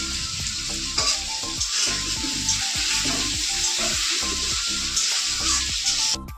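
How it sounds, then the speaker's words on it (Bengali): Potatoes fry in oil left over from frying fish, with a loud, continuous sizzle close by and repeated stirring strokes scraping the pan throughout. "আমি মাছ ভেজে নামিয়ে সেই তেলের মধ্যে আলু দিয়ে দিয়েছি ওটাকে একটু ভেজে নিই"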